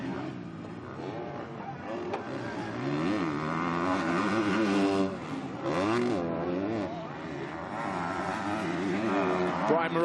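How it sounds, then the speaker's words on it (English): Motocross bikes race at the MXGP of Turkey in an MX2 event, engines revving and rising and falling in pitch as they pass, heard at a distance under steady crowd and track ambience. "Jorge Prado starts his final lap here at Affion."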